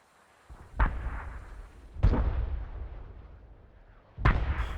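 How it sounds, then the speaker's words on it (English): Artillery shells land in the Arma 3 combat game as three separate heavy booms, each with a sharp crack and a rumbling tail, spaced over a few seconds. "about 4 rounds impacting this position with the infantry and the machine gun"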